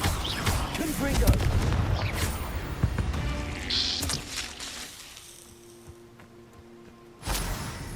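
A Confringo blasting spell in Hogwarts Legacy, with a burst of booming impacts and crackling in the first few seconds, a quieter stretch, then another loud blast near the end.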